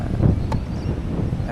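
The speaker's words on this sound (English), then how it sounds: "just to give you an idea of how windy it was" Gusty wind buffets the microphone at an outdoor tennis court during a junior tournament match in Swan Hill, Australia, a loud low rumble surging and easing with a faint click midway.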